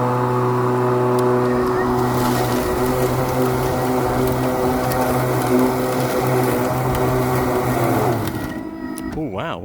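A 30-inch lawn mower on Super Turbo setting drones steadily through high grass, its blade and motor hum loud and continuous, then dropping in pitch and bogging near the end as it struggles.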